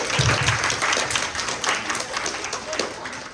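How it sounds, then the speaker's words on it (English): Audience applause at a girls' career-advice talk, a burst of clapping from a crowd that fades slightly over a few seconds, with faint voices mixed in. "can you give yourselves a round of applause?"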